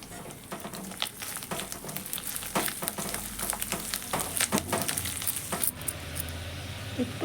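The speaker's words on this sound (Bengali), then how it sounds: "দিয়ে ভালো করে নেড়ে মশলাটা ভালো করে কষাতে হবে" Spice paste with turmeric frying and being stirred in a pan for a fig (dumur) dish, a steady close sizzle broken by repeated scraping and clinking strokes of the spoon against the pan.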